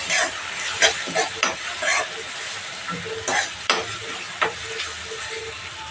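Mutton curry pieces fry and sizzle in a pan, with a steady hiss broken by several sharp scraping stirs of a spoon against the metal, close and fairly loud, and no voices.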